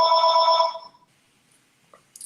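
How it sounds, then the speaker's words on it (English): A telephone bell rings in one loud, bright electronic trill up close, then cuts off and leaves near silence with a couple of faint clicks. "Better get that. It might be the phone."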